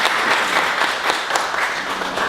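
Applause from an audience at a community forum meeting in Yangnim-dong, a steady, fairly loud wash of clapping that holds for the whole stretch with no talk.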